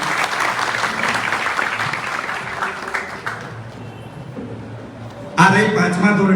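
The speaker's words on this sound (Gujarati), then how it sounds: "જોરદાર એક તાળીઓ કરી" Audience applause at an RTE and competitive exam guidance event in Katargam rises loud at first, then thins and fades before a speaker's voice cuts in over the tail end.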